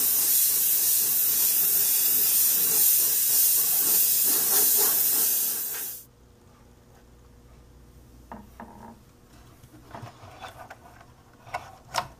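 Light gray paint sprayed in a steady, loud hiss onto a Dragon Panzer 4 reconnaissance tank model, running for about six seconds before cutting off and leaving faint scattered taps and rustles.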